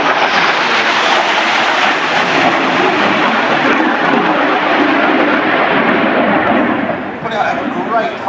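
A Saab J-29 Tunnan jet passes at the Jersey airshow in 2009, a loud, continuous broadband roar lasting the whole stretch and easing slightly near the end, with a public-address voice faintly beneath it.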